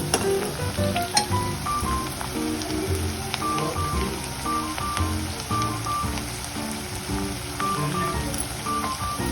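Onion and garlic fry over a high flame in a pan for pav bhaji, a dense steady sizzle with scattered crackles and pops throughout and no talking.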